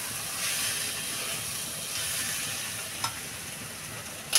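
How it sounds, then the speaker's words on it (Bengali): Greens (saag) fry in a pan with a steady, close sizzle and hiss, broken by a couple of sharp scrape-and-clink stirring sounds near the end and no talking. "আমার শাকটা ভাজা হয়ে গেছে বন্ধুরা, আমি এবার শাকটা নামিয়ে নেব।"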